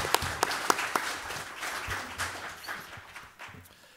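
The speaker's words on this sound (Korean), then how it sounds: "우리가 박수를 좀 청해 듣는 게 좋겠습니다" An audience at a Korean policy forum on hospital infection control applauds, with a few sharp claps at first swelling into a short burst of general clapping that fades off, and no talk over it.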